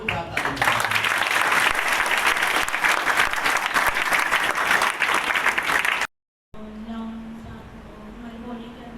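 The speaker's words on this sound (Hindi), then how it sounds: "जोरदार ताली बजाइए।" An audience at a school seminar on drugs claps loudly and continuously for about six seconds, then cuts off abruptly before people talk.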